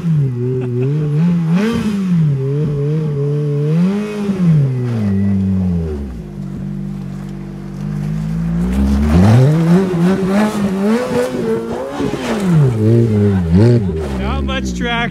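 A Ferrari on snow tires revs hard while spinning donuts in a snowy, gravel-based parking lot, its engine rising and falling in long loud sweeps, with people talking over it.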